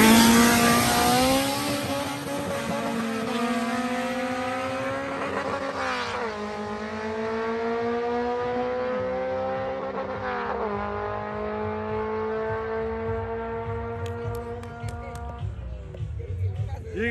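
Two nitrous-fed race cars with K-Series engines in a head-to-head drag race, a loud sustained high-revving roar with rising pitch through several gear shifts, heard alongside excited speech.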